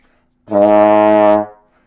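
A single sustained trombone note played too low, steady and buzzy, held for about a second with no talking around it.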